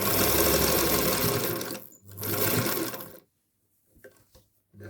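A Singer Featherweight sewing machine stitches dress fabric in a fast, loud, even mechanical whir that runs for about three seconds with a short pause, then stops, leaving quiet with a few faint handling clicks.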